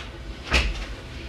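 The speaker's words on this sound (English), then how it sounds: "I'm going to close the door in case it rings again." A door swings shut indoors with a single soft, muffled thud, a brief low knock standing out once against a quiet room.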